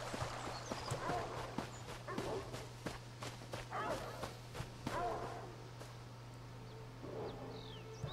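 Dog barking in The Elder Scrolls video game, repeated sharp barks at moderate distance over a steady low hum, with clip-clop sounds and occasional faint game noises.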